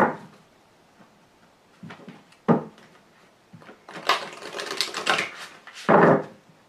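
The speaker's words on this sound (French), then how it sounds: "Je vais trier les cartes." Tarot cards shuffled and sorted by hand, a run of soft papery flicks and riffles, with sparse taps early and a dense, louder burst of card shuffling toward the end, close and alone.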